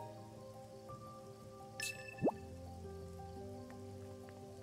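Heavy rain in the video game The Good Life patters softly and steadily, broken by a brief chime and a quick rising electronic tone.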